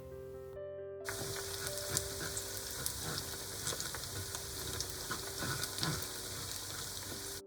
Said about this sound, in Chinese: 倒入玉米， 继续用小火慢慢炸。